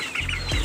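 Free-range village chickens eating wet feed cluck in short, close bursts over a brief moment.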